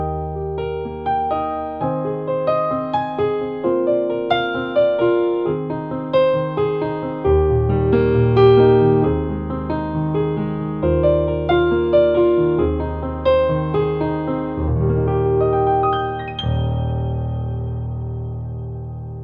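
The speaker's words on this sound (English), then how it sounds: "this is the sound of the SK5 Studio Grand Piano" A Kawai CN39 digital piano's SK5 Studio Grand Piano sound plays a flowing passage of chords and melody, rich and resonant, with sustained low notes ringing under the phrases; no voices.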